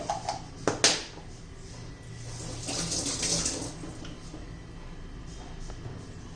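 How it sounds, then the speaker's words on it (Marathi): Cold water pours and splashes into a mixer jar of lemon-mint sherbet after a couple of sharp clinks, a steady trickling stream that gradually settles. "हे पहा त्यामध्ये थंड पाणी घालूया"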